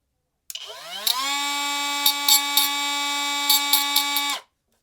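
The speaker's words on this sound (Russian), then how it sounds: "Можно болгаркой попробовать." Angle grinder spinning up and cutting into a circuit board: a steady, loud high-pitched motor whine rising in pitch, with brief scraping bursts where the disc bites the board, alone and close.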